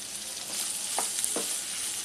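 Cauliflower and vegetables with salt fry in a pan for matar gajar pulao, a continuous bright sizzle with two soft scraping stirs near the middle and no voices.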